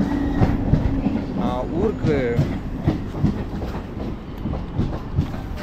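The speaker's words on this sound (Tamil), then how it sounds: "ஸோ ட்ரெயின் வந்துருச்சு, நான் ஏறுறேன்." A train rolls past close by with rhythmic clickety-clack from the wheels and a brief squeal, while a voice talks quietly underneath.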